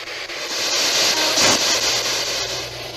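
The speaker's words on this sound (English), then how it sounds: "With white noise" Steady white-noise hiss played from a device during a paranormal investigation at an old inn, broadband and fairly loud, holding constant for the whole stretch with no talking.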